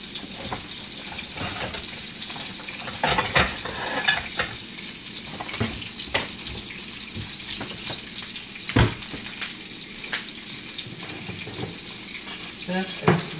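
Salmon frying in butter and olive oil in a pan, a soft steady sizzle with scattered clicks and clatter of utensils, fairly faint and continuous.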